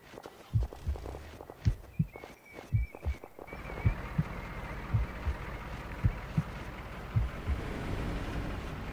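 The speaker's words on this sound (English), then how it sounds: "I hear my heartbeat." A player's heartbeat in the military shooter game Arma 3, a low, steady double-thump pulse repeating about once a second, with faint footsteps and ambient hum in the background.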